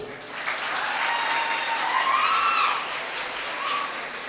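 An audience gives big applause at a Tamil motivational talk, a steady moderate wash of clapping with faint tonal sounds running through it, sustained throughout.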